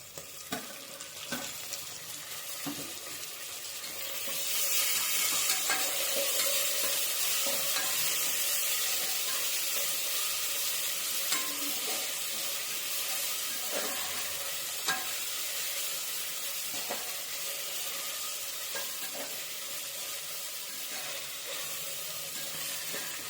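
Tomatoes fry in a pan for chicken biryani, with a continuous sizzle and repeated scraping stirs of a spoon, the hiss growing fuller after a few seconds and staying steady.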